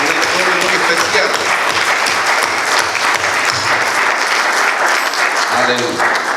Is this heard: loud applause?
yes